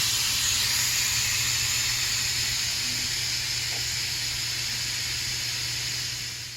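An Instant Pot pressure cooker vents steam in a steady, loud, continuous hiss throughout, with a faint low hum underneath, fading slightly at the end.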